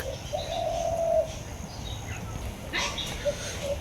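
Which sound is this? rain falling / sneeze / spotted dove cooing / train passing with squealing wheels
spotted dove cooing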